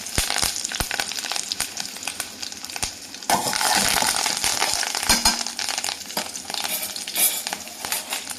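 Egg poriyal in a pan is mixed and fried, giving a loud, close sizzle broken by repeated sharp spatula scrapes and knocks, with a denser burst of frying partway through.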